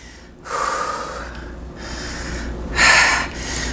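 Heavy, forceful breaths during a reformer pilates exercise, three loud close bursts of air with short pauses between them, the last one strongest, no talking.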